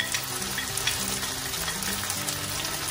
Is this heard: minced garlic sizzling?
yes